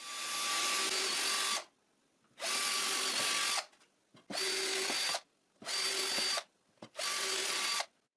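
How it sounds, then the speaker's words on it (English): A power drill whines loudly in five bursts of one to two seconds each, drilling guide holes in plywood, separated by brief silences, close up with no talking. "I drill guide holes,"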